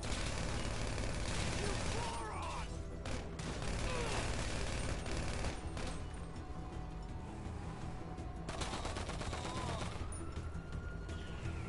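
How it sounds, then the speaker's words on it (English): Rapid bursts of gunfire from GTA 5 Online, sustained and loud through the whole stretch with dense overlapping shots and a voice talking underneath. "Yeah, I shot him."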